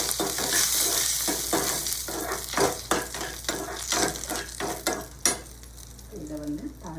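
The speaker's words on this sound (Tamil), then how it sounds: "எண்ணெய் காஞ்சிருச்சு. கடுகு, மிளகாய், வெங்காயம் எல்லாம் போட்டாச்சுங்க." Mustard seeds, chili and onion frying in hot oil in a pan, giving a loud, steady sizzle with crackling pops and occasional scrapes of a spoon stirring, all heard close up.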